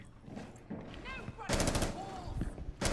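Rapid bursts of video game gunfire crackle loudly through the second half, a dense automatic volley with a final burst at the end, while players' voices chatter underneath.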